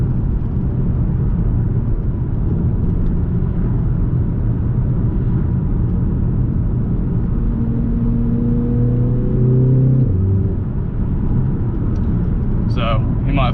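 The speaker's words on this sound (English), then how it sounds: "Hopefully you can hear the car okay. It does sound really nice. It's quite a throaty sounding 2-litre." Audi TT 2.0L Quattro engine drone heard from inside the cabin while driving, a steady low rumble with a rising rev sweep near the end before settling back, continuous and fairly loud.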